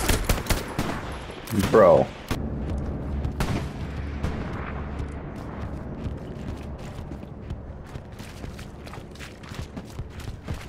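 Gunfire in Hell Let Loose, with a few sharp shots early and a burst near the start, followed by scattered quieter bangs and distant battle noise; a voice speaks briefly.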